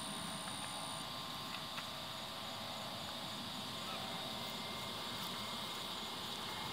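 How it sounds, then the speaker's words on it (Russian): Airplane climbing overhead just after taking off from a nearby airport, heard from a residential neighborhood street as a steady, distant engine roar that holds evenly throughout without talking. "Вон еще самолетик летит."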